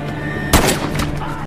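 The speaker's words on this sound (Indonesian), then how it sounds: "kepala sipir yang memberikan sebuah tembakan peringatan" A single sharp warning gunshot from a prison warden in a film cracks out, loud and close, trailing into a brief echoing decay over a background murmur.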